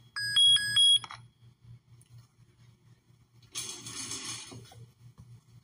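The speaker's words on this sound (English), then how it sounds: "So that's why it's playing alert sound." An alert from a PPE detection system sounds as a quick run of ringing electronic dings at the start, then stops, leaving a low rhythmic hum and a brief burst of hissy noise later.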